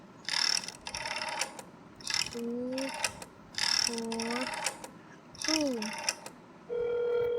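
A telephone call in the horror game That's Not My Neighbor, with repeated mechanical ringing bursts separated by pauses and short tonal beeps, fairly faint and steady.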